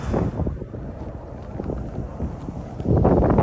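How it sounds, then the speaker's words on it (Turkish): Strong wind in Hollywood buffets the microphone with a steady low roar that swells louder near the end. "müthiş bir rüzgar var"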